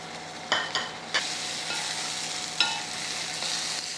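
Two medium thinly chopped tomatoes frying with ginger garlic paste for a mushroom tomato curry, a constant close sizzle broken by a few sharp stirring scrapes and clinks of a spoon against the pan.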